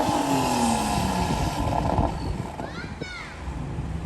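A Honda Civic engine revs during a midnight run, its roar rising and falling beneath loud, ongoing voices and broad road noise.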